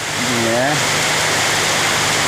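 A dense, steady hiss of heavy rain pours down throughout at Areekode taluk hospital in Kerala, with a brief voice heard at the very start.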